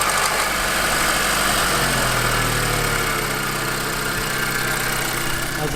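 A Volkswagen GTI engine idles with its turbo running, a steady dense rumble and hiss with a faint whine, close and loud throughout, with no voices.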